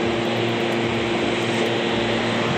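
A loud, steady whooshing hum of a Bajaj DMH 65 Neo air cooler fan running close by, constant and broadband with a faint tonal drone underneath.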